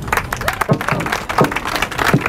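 An audience applauding at a photography exhibition opening, dense continuous clapping with a voice speaking over it.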